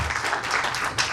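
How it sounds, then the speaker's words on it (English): A panel audience at a leadership event gives a brief burst of applause, moderate scattered clapping lasting about a second. "Big round of applause."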